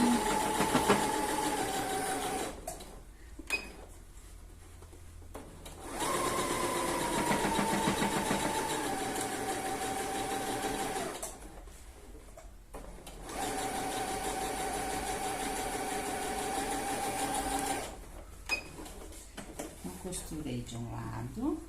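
A sewing machine stitches patchwork slowly in three long steady runs with brief pauses between them, humming close by while someone talks over it.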